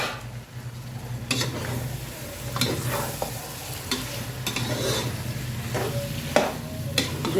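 Fried chicken tossed into a coconut-paste masala for tikka biryani, with a metal spoon scraping and clinking in the pan at irregular intervals over a steady low sizzle, close up, with no voices.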